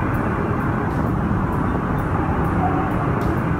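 Ride aboard an LRT light rail train in Manila: a steady, loud rumbling drone with faint periodic clicks of the wheels over rail joints.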